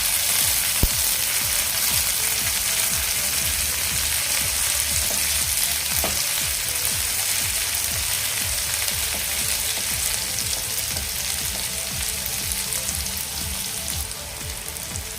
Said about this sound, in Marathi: आता यामध्ये आपण टॉमॅटो घालूया